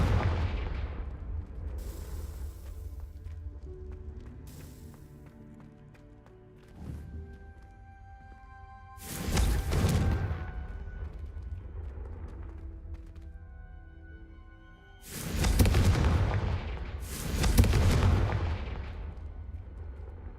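Heavy blasts from the Confringo explosive spell boom in Hogwarts Legacy, three or four separate loud detonations spaced several seconds apart over a quieter bed of game music and ambience.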